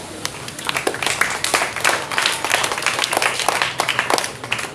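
Continuous applause and clapping from an audience cheering a student who read a book, at a school festival event, dense and steady throughout with scattered louder claps standing out.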